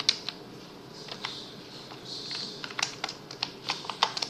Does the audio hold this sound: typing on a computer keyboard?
yes